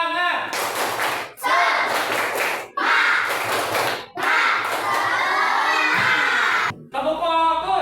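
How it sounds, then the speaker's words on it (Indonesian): A classroom of schoolchildren doing a rhythmic spirit clap, bursts of loud group clapping and shouting in several bursts separated by short pauses, close and energetic. "Ya, oke, tepuk semangat."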